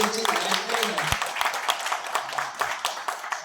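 An audience at a Marathi song launch for the film Giran breaks into applause, a burst of clapping heard alongside a speaking voice.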